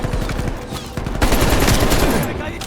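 Heavy machine gun fire from the Call of Duty Cold War campaign rattles in dense, continuous rapid bursts, loud and close, mixed with other battlefield gunfire and shouted voices.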